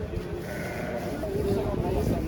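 Sheep bleat at a busy outdoor livestock market in Uchko'prik, with people talking and haggling over prices nearby throughout.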